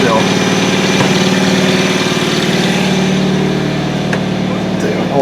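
A Hyundai Tucson engine with a mass air flow sensor fault runs steadily at fast idle, a close, even mechanical drone with light clicks and no one speaking.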